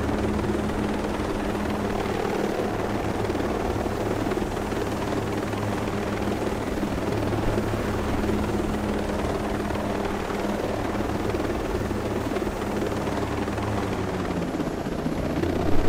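Steady helicopter rotor drone from the Ghost Recon Breakpoint video game, a continuous low thumping whir that holds at an even level throughout with no talk.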